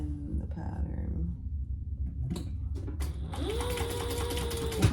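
Sewing machine stitching a gusset seam on a crossover bag, heard as a close, steady whirring run of stitches that starts partway through after some handling sounds.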